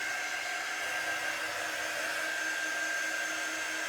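A hair dryer drying chalk paste on a stencil blows with a steady, even whir and a high whine, a constant close hum that runs unbroken throughout with no talking.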